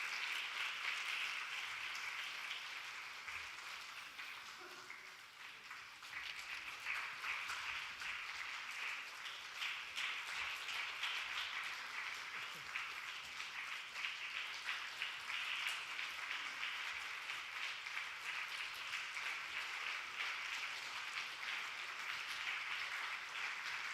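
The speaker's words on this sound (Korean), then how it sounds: "우리 박수로 다시 한번 축하하고 격려하겠습니다" A church congregation applauds at length, sustained clapping from many hands filling the room at steady loudness, briefly dipping before swelling again, with no talk over it.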